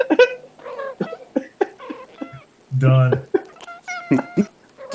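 Recorded cats meowing from an album of cat sounds, a few short mews mixed in among close conversational voices and laughter, with a brief low burst near the middle.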